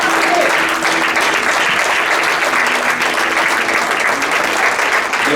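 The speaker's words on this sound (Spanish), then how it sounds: "Dale un aplauso al Señor." A church congregation applauding, loud dense steady clapping from a large group that fills the room without a break, with no talk over it.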